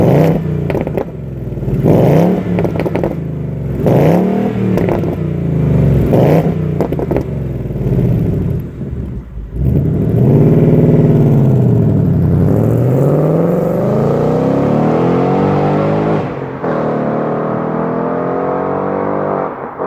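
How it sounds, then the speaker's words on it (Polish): A powerful Ford Mustang Bullitt 5.0 V8 exhaust revs and burbles loudly, rising and falling through several throttle blips before settling into a deep, rumbling idle. "Przed ceną posłuchajmy jeszcze raz wydechu."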